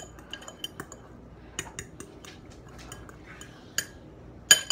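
Cutlery scraping and clinking against a bowl as food is mixed in a home kitchen, a run of light, irregular taps and scrapes with a sharper clink near the end, close and moderately quiet.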